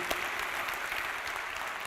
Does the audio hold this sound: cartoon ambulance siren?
no